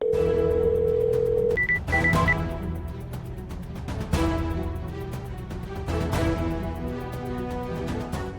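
An electronic phone tone sounds, then a few short beeps, followed by musical ringback tones repeating over a busy background, with no one answering.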